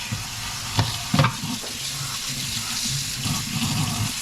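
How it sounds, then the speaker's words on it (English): A sponge scrubs a kitchen sink sprayed with Dawn Power Wash, giving close wet swishing and squeaky rubbing with a few sharper bumps and no talking. "some Dawn Power Wash, and I'm just going to go around with my sponge"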